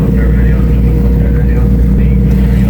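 A sailing yacht motors under engine with the mainsail up in light wind, a loud, constant low diesel drone with rushing water and wind noise, a voice talking over it.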